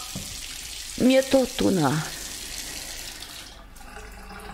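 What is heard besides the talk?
water running from a tap in radio drama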